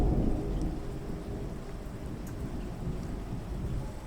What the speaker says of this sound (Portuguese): O som da chuva ficou abafado, mas eu ainda podia ouvi-lo, e ele me relaxava.